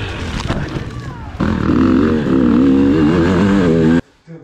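A hard enduro motorcycle engine revs up close and loud, climbing and falling in pitch through several throttle blips before cutting off abruptly. Rough idling comes before the revving.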